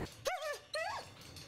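Greyhounds in racing kennels give two short, high, whining yelps in quick succession, close and clear against a noisy background.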